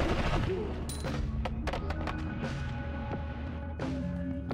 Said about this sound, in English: God, I can't stop exploding.